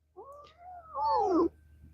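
A cat sitting on a lap gives a close, clear meow in two parts, a short call and then a louder, rising and falling cry, with a faint low hum underneath.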